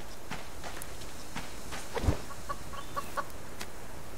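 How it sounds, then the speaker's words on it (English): Chickens in the survival video game Subsistence, a few short clucks and a sharper squawk over a soft ambient background, with light footstep-like ticks. "Three chickens, it's fantastic"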